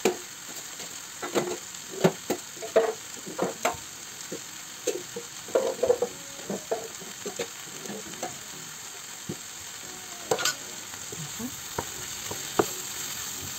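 Vegetables sizzle and fry in a pan while being stirred, with scraping stir strokes and spatters in an irregular rhythm, close and moderately loud with faint speech at times.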